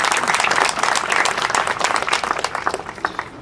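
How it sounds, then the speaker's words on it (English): Outdoor crowd applause at the Atlanta Beltline Westside Trail groundbreaking ceremony, a loud close burst of many hands clapping that thins into scattered claps toward the end. "we can clap for that"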